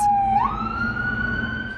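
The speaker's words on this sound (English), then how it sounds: "Sirens blared through the streets of Las Vegas" Emergency vehicle sirens wail through the streets of Las Vegas, sliding up from a lower tone to a higher sustained pitch, loud and close, over a low background rumble.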